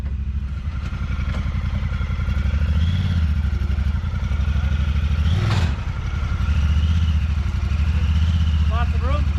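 Honda Talon 1000X UTV engine running steadily at idle, a loud continuous low rumble throughout with a brief rise near the middle and faint background clatter.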